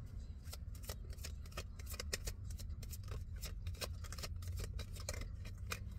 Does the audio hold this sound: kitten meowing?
no